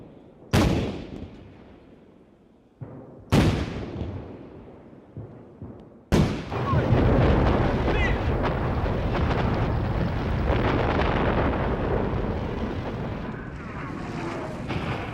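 World War I artillery fires shells in a barrage during the Battle of the Somme: two heavy, isolated booms, then a dense, continuous roar of guns rumbling on, loud and sustained.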